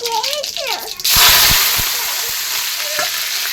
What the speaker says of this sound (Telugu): ఇప్పుడు మనం కరివేపాకు వేసుకోవాలి.